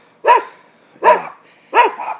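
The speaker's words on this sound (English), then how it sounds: "because of the incessant dog barking" Several dogs barking at a residential backyard, led by a white dog, in three loud, close bursts spaced under a second apart with short gaps, no talk.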